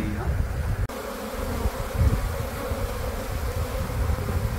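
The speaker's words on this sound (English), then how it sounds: "You can just listen to the buzzing. It's so loud." Honeybees buzzing at an open hive, a dense, loud and continuous drone of many insects close by, steady throughout with a brief dip early on.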